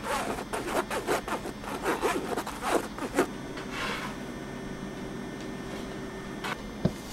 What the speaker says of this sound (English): we're going to sift the powdered sugar to get the lumps out as well.